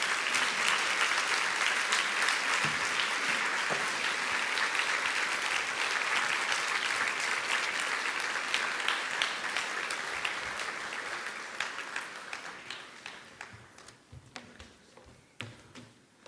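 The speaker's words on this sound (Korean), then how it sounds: "우리 박수로 임마누엘 가정을 맞이하겠습니다." A church congregation claps to welcome a visiting family during a worship service, a full, steady round of applause that gradually thins into scattered individual claps before dying away.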